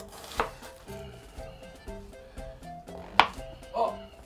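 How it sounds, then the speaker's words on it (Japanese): A kitchen knife slices an onion into thick pieces for hayashi rice, giving a series of crisp knife-on-board chops in an uneven rhythm, a few sharper knocks standing out. The sound is close and clear, with no talking. "玉ねぎの存在感が結構ここは欲しい感じがするので、ちょっと厚めに切ってます"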